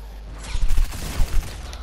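A short burst of SMG fire in a video game, rapid sharp shots clustered in two quick volleys over a low rumbling background, close and fairly loud.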